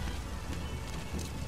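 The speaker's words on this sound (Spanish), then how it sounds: "A ver si deja de llover ya" Steady rain falls in the stealth game Metal Gear Solid V: The Phantom Pain, a dense, even hiss with low rumbling underneath, heard briefly on its own.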